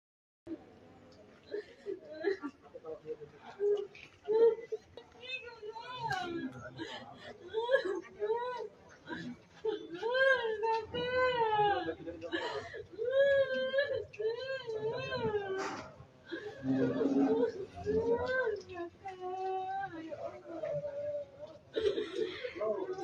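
A grieving family cries mournfully, with wavering wails and sobs rising and falling, several voices overlapping up close and speech mixed in throughout.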